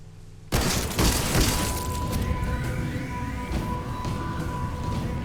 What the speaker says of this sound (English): The sound of high-caliber rifle shots hang in the air